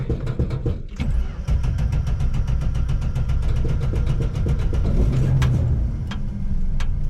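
A classic car is cranked in rapid repeated starter bursts, stumbles, then catches and settles into a close, steady idle.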